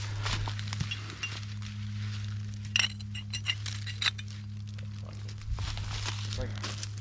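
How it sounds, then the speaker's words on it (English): Broken glass clinks and crunches faintly underfoot along a riverbank, a scattering of small sharp taps and tinkles over a low steady hum. "Here's some more broken glass."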